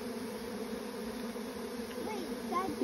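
A swarm of friendly bees moving into a bait hive makes a steady low buzzing drone, close and fairly faint, continuous throughout with a few brief higher chirps near the end.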